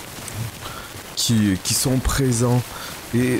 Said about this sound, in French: Voilà, la pluie commence.